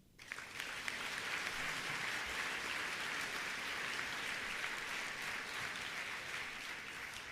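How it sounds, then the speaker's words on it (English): A large dinner audience honoring technology leaders at a Digital India event breaks into sustained applause, a dense, even wash of many hands clapping that holds steady throughout with no speech over it. "So please give a round of applause to John, to Satya,"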